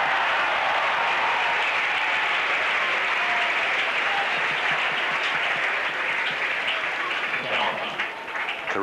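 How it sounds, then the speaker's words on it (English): A tennis crowd at a Becker versus Berasategui match applauds continuously in a dense, loud, steady wash of clapping that holds throughout and dips briefly near the end. "Listen to the crowd."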